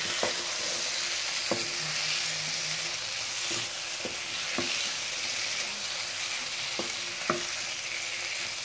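Carrots being stirred and fried in masala in a pan, a steady close sizzle punctuated by repeated sharp spoon scrapes and clacks at irregular intervals.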